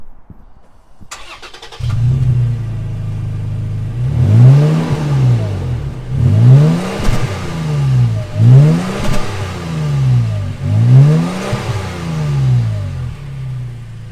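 A Toyota Tacoma TRD Pro V6 engine revs repeatedly through its exhaust after a brief start-up sound, rising and falling in several loud, close blips.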